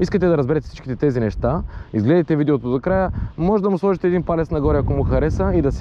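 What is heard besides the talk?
No everyday noises stand out.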